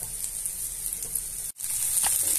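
Garlic browns in a pan for rice with ribs, a close, steady sizzle and crackle with a brief dropout midway before the frying resumes, slightly brighter.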